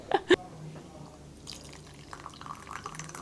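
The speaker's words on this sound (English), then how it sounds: "I will pour the first cup and see if it's steeped long enough" Lemon and ginger tea being poured into a cup: two sharp splashes right at the start, then only a faint trickle and quiet room noise.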